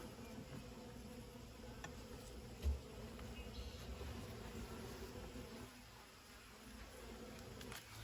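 A swarm of honeybees hums faintly in a backyard hive, a low steady buzz with a few louder passing bees and a sharp knock at the very end.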